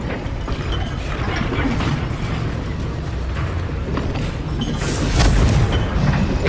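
Booming fire blast from a Confringo spell in the Hogwarts Legacy game, a rumbling explosive roar amid constant battle noise, with a sharp burst near the end.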